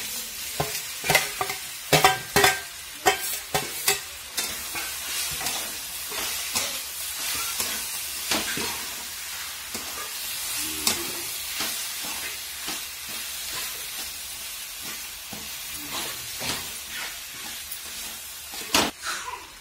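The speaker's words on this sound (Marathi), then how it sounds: "आपलं वांग्याचं भरीत टाकून आणि सगळं मिक्स करून घ्यायचंय." Eggplant bharta stirred with fried onions in a pan, a spatula scraping and clacking in irregular close strokes over a soft steady sizzle, with no voices.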